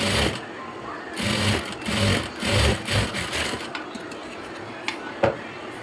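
A sewing machine runs in several close bursts of stitching while topstitching the seam of a churidar pant, then pauses, with a few soft clicks and handling sounds near the end.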